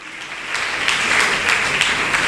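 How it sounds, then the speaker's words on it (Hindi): Congregation applauding during a church sermon, a steady, full round of clapping from many hands that swells slightly and holds throughout. "जोरदार तालियां खुदा के जलाल के लिए"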